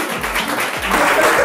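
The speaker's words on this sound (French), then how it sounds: "on peut les applaudir très très fort aussi" An audience at a live hypnosis comedy show claps loudly, a dense burst of many hands that stays full and close for the whole short stretch.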